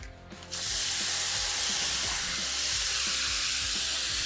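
Vegetables hitting a hot Twin Eagles teppanyaki griddle burst into a loud, continuous sizzle that holds steady, broken by faint scraping of a spatula underneath.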